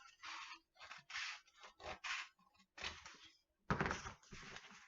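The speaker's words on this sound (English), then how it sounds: "I'm going to take my scissors." Scissors cut through a cardboard toilet paper roll for a recycled craft robot, making a series of close, crisp snipping and scraping bursts separated by short pauses.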